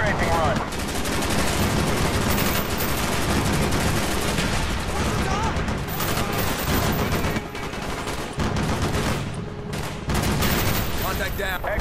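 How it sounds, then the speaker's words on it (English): Strafing-run gunfire in the Call of Duty: Black Ops video game, a dense, continuous barrage of rapid shots and blasts that stays loud throughout with only brief dips, mixed with radio chatter. "Stand by for strafing run."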